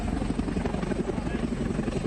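An army Chinook helicopter at a cloud-burst rescue site in the mountains, giving a loud continuous rotor drone with rhythmic chopping throughout.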